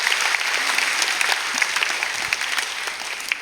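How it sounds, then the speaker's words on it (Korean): A church congregation at a Sunday evening service in Mokpo breaks into sustained applause, dense steady clapping from many hands filling the room for several seconds at an even level. "박수 한번 하겠습니다"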